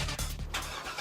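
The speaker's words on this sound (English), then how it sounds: "You hear that? That's the sound of America's only sports car." A Chevrolet Corvette sports car engine rumbling and revving in a brief burst, a deep throaty roar that swells and dips over about a second.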